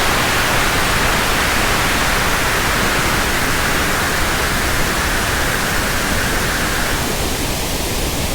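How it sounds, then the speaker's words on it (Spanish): Pink noise test signal played through a church sound system, a steady, loud hiss that runs unbroken, with its upper tone shifting slightly as the frequency balance is adjusted near the end. "No son aplausos, es un ruido rosa."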